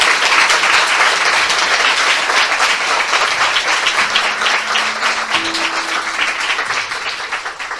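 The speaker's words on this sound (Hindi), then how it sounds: "आइए हम प्रभु यीशु मसीह के लिए जोरदार ताली बजाएं।" A church congregation applauds loudly for Jesus Christ, a dense sustained wash of clapping that holds strong and then gradually tapers, with a faint tone briefly sounding beneath it.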